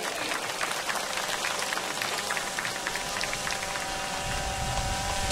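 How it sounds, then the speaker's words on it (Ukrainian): Crowd applauding outdoors at the opening ceremony of a football stadium in Sambir, a steady, rain-like crackle of many distant hands clapping throughout, with no speech. "Ваші щирі оплески!"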